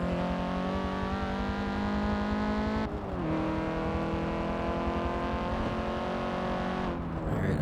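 A Honda Civic Type R hot hatch races in Forza Motorsport 7, its engine droning steadily and loudly with a clear pitch shift and brief dip near three seconds as it shifts or lifts, holding sustained revs throughout with no talk.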